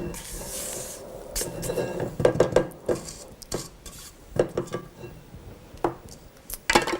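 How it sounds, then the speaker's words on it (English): A utensil scrapes around a bowl of light, fluffy vanilla cake batter, making intermittent close scrapes and small clinks against the bowl with short pauses between strokes. "So I'm going to do one more scrape around."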